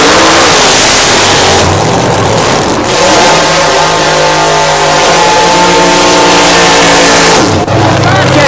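Two drag racers, a door slammer and a supercharged outlaw funny car, roar loudly and continuously at close range, engines revving and climbing in pitch with a brief dip midway, while a commentator talks over the thunder.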